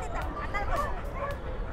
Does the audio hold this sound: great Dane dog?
yes